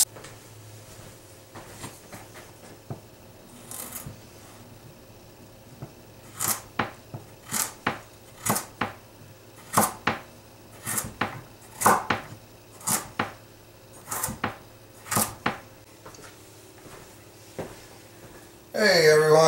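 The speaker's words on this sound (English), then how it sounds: "We got all these carrots all chopped up now." A knife chopping carrots on a cutting board, sharp distinct strokes coming in quick irregular bursts and growing busier midway, with quieter handling noise in the pauses.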